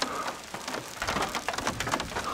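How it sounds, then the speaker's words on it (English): Hail falling during a thunderstorm on a mountain, a dense, steady patter of many small impacts, close and fairly loud, alone without voices. "Before for I can even put my stuff in, it's hailing. This is hail."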